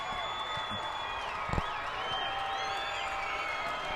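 A high school football crowd at a Kearney versus Benson game grows loud on third and ten, its sustained cheering and noise running the whole time with a brief thump partway through.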